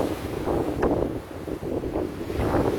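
Stormy wind and crashing sea waves under Brighton Pier, a dense continuous roar with surging swells and heavy wind buffeting on the microphone, no voices.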